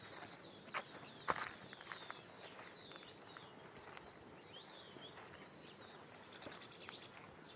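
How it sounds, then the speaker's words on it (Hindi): Birds calling in forest along the Narmada riverbank near Mandla, scattered faint chirps and short whistles over soft footsteps and rustling, with a brief rapid trill near the end. "यहाँ पे पक्षियों की आवाज़ सुनिए।"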